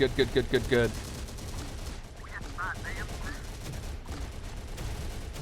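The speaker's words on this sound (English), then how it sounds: "They are in close combat with a shotgun." In Terminator: Dark Fate Defiance, infantry and rangers fire shotguns in close combat: a rapid burst of sharp, loud blasts, then a rumbling battle din with distant shots.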